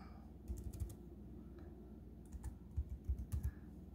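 Quiet, close typing on a computer keyboard as a web address is entered, with short bursts of rapid key clicks separated by brief pauses.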